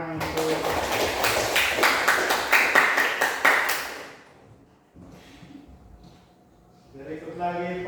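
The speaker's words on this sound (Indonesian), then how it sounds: "kita beri tepuk tangan untuk" An audience at an indoor workshop session claps together for about four seconds, the dense rhythmic clapping mixed with voices, then it fades out and quieter talk takes over.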